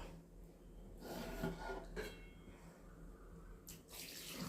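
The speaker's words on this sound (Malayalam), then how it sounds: "കുറച്ച് വെള്ളം ഒഴിച്ച് കൊടുക്കുക." Water pours into a pan of chicken parts curry on a home stove, a soft continuous splashing stream that swells and recedes over a few seconds, faint and close with no talking.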